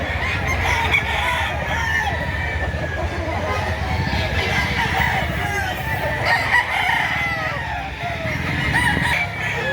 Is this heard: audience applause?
no